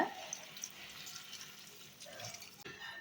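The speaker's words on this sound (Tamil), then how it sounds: "இப்போது இது கூட கொஞ்சம் தண்ணி சேர்த்துக்கலாங்க" Water pours and splashes steadily into a pot of chicken biryani being cooked, a soft continuous liquid rush heard close by at low volume.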